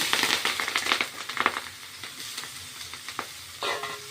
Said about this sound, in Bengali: কড়াইতে তেল জিরে দিল, কড়াইতে তেজপাতা দিলাম, তেজপাতা, শুকনো লঙ্কা দিলাম, এই যে পেঁয়াজ কটা দিলাম